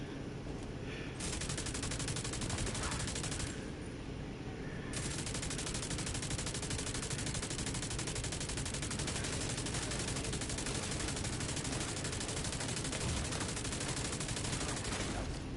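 Machine gun fire in the video game Division 2 rattles in long, dense bursts of rapid shots, loud and continuous with two brief pauses near the start.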